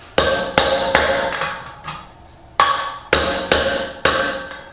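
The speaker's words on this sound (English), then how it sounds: "Even with Thor's hammer, she ain't moving." Heavy hammer blows against a stuck dirt bike wheel bearing during a workshop repair: seven loud, ringing metallic strikes in two bursts, three quick hits, a softer one, then three more after a pause, each decaying sharply.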